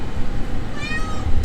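Farm cat inside a warm barn, one short meow rising then falling, heard close over a loud low rumble of background noise.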